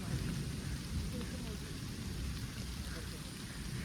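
The first monsoon rain of the season in Konkan pours down with a dense, constant hiss and low rumble throughout, no voices heard.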